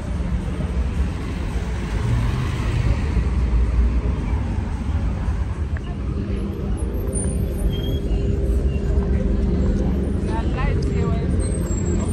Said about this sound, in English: There's a this car coming.